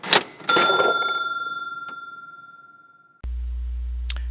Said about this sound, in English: Cha-ching! I sold something on eBay.